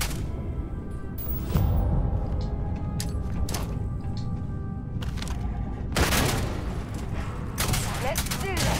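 Grenade explosions in a low-gravity fight in Starfield, heavy booms mixed with rapid gunfire bursts and whooshes, a voice talking over the combat.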